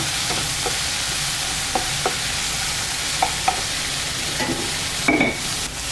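Onion and tomato sautéing with rock salt in a pan, a continuous soft sizzle with several spoon scrapes and light knocks against the pan, close and without talk.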